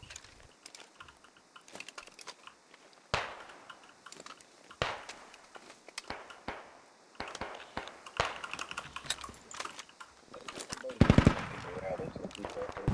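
Rapid gunfire in the military shooter game Squad, with bursts and single sharp shots cracking irregularly across the stretch, loud and close, and a louder flurry near the end, with a voice talking over parts of it.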